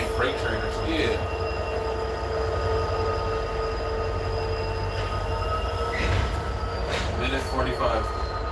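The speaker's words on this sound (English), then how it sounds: "a freight train or something" A freight train rolls slowly past, a steady rumbling roar with squealing wheels and tonal screeches rising and falling throughout, close and loud, with people talking faintly underneath.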